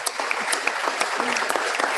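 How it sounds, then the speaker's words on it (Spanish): An audience at a 2018 scientific meeting and general assembly claps in a dense, steady burst of applause, close and continuous for a couple of seconds with no pauses. "si quieren, se puede aplaudir, ¿eh?"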